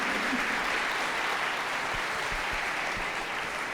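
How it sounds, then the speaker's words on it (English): Dense, even applause from a conference audience after a security talk at DefCamp 2025, continuous clapping heard alone at a moderate level. "Let's give Inbar a huge round of applause for this incredible presentation."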